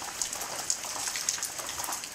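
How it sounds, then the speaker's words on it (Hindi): Heavy rain pours during a thunderstorm around Abbottabad, a dense, steady hiss of falling water with occasional sharper drops standing out. "गिरदोनवाह में गरज चमक के साथ होने वाली तेज बारिश के बाद मौसम ठंडा हो गया"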